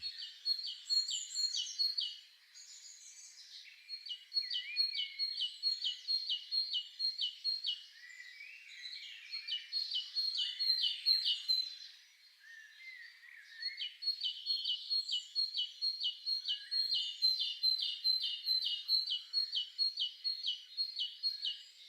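Small bird chirping in rapid repeated trills, high and clear, in bursts with brief pauses, fairly close and alone.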